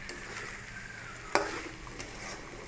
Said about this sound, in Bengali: এই আলু দিয়ে মশলা কষানো হলো